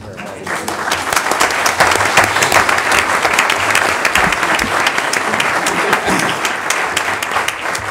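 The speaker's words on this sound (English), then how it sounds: "that standing ovation goes for our firefighters" A city board meeting audience gives a standing ovation, loud sustained clapping with sharp individual claps standing out from the dense roar and a murmur of voices underneath.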